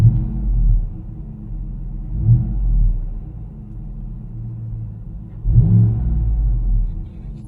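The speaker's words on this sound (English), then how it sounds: "Let's see what the truck sounds like." A 2015-2020 Cadillac Escalade engine fitted with an MBRP exhaust, a deep low rumble at idle swelling into two or three throaty revs, loud and close with no talk.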